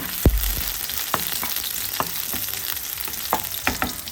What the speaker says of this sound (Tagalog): magsaute tayo ng konting garlic